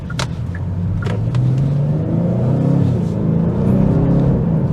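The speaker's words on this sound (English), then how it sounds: "I'm going to merge into traffic and see if we can do it effortlessly, as we should be able to." A 2023 Genesis G70 3.3T Sport Prestige, a rear-wheel-drive sedan, accelerates hard to merge into traffic. Its engine rumble climbs steadily in pitch and loudness from inside the cabin.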